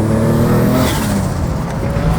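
A car with a rebuilt RB25 engine revs loudly close by, its harmonic engine note rising briefly and then settling into a steady roar.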